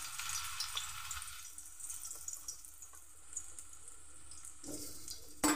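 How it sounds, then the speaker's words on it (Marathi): Potato pieces fry in a little oil in a kadhai over a gas flame, a faint, airy sizzle that changes as they are stirred, ending with a sudden louder clatter. "बटाट्याची फोडी जरा घेते फ्राय करून"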